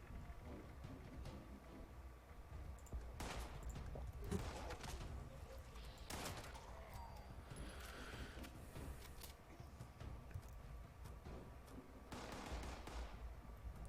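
Scattered enemy gunfire in Fallout 76 crackles as several short bursts and single shots, fairly faint and distant over a low steady game background, with no talking during the shots.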